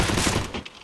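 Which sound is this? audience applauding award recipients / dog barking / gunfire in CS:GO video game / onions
gunfire in CS:GO video game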